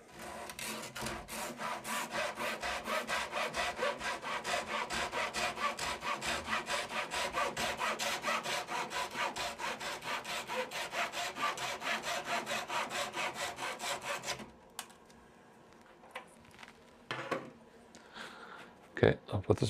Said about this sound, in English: Now use a Dazuki saw to trim this off